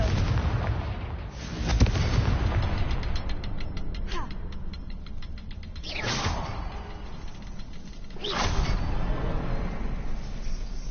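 Confringo blasting spell in the Hogwarts Legacy video game fires as several booming blasts with whooshing impacts over a rumbling game soundscape, with no voices.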